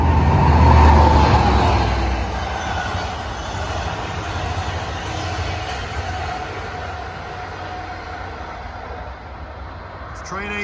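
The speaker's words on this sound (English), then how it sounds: "It's train 18 from Hunters Point Avenue to Montauk." LIRR train 18 to Montauk rolls through Westbury station, a loud rumble up close that fades into a long steady roar of wheels on rail as the cars pass, with faint wheel squeal.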